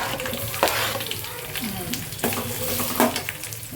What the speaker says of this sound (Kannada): ಇವಾಗ ಫಸ್ಟು ಈರುಳ್ಳಿ ಹಾಕಬೇಕು.